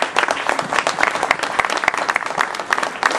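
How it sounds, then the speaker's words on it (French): A live French concert audience gives close, dense applause, rapid overlapping claps sustained throughout the short stretch with no voices. "je voudrais qu'on l'applaudisse"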